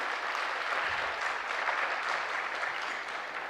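Steady, even audience applause from a crowd at a spiritual youth gathering, continuous and fairly distant throughout.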